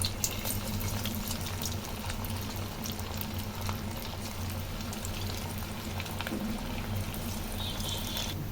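Paneer pieces for paneer 65 fry in hot oil in a pan with a dense, continuous sizzle and fine crackling, close and even throughout, with no voices.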